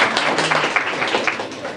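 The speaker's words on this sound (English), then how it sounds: "round of applause for our judges" Audience applause for the judges at a business event, a steady wash of many hands clapping close by that runs the whole short stretch at even loudness.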